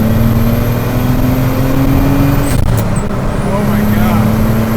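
A 400 hp turbocharged BMW E12 with an M30 engine pulling hard in third gear, a loud, continuous engine roar with a rising drone and a brief dip midway, heard from inside the car.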